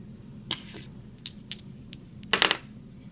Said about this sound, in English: Now donations. In this column I must roll the dice.